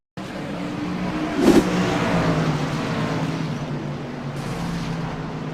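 Stock car racing at North Wilkesboro Speedway, with a steady roar of engines on track throughout and a brief louder burst near the middle as a car hits the wall. No voices.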